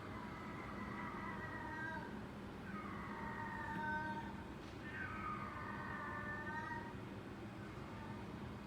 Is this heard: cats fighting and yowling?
yes